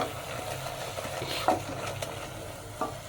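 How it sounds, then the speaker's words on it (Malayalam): Spices and ground pepper sauté in oil for mutton paya, a soft steady sizzle with a few stirring scrapes and light clinks of a spoon against the pan. "ഇതൊന്ന് നന്നായിട്ടൊന്ന് വാട്ടിയെടുക്കണം"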